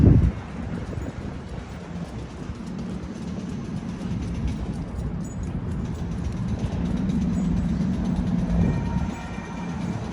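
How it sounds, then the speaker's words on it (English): A transit tram rumbles past close by in downtown Sacramento, a steady low roar that swells toward the end, with wind buffeting the microphone. "Oh, we got another transit tram in front of us."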